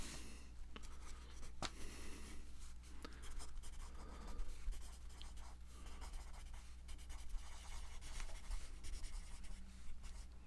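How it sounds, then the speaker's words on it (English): Pen or pencil writing down measurement numbers during a men's suit fitting, a soft, close scratching and rubbing on paper with small taps, quiet and continuous with no talking. "Just write down some numbers."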